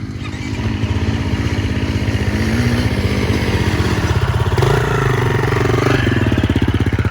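Off-road motorcycle on a training trail, its engine chugging in a steady pulsing rhythm close by, rising into a louder rev partway through, with no talking.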